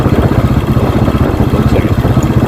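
An older Royal Enfield motorcycle engine, one with a faulty clutch, thumps loudly and close in a rapid pulsing beat, building under throttle in a short burst.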